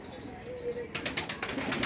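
Pigeons, high-flying female birds, stirring with soft cooing and fluttering wing movement, a burst of busier flapping and rustle arriving partway through.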